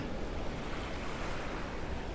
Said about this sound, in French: Avec toujours le récif au bout là qui casse les grosses vagues.